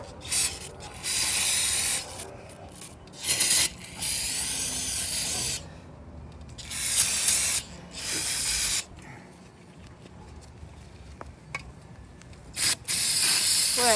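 Carburetor cleaner and brake cleaner are sprayed onto a 383 engine block in several loud, close aerosol hissing bursts separated by short quiet pauses.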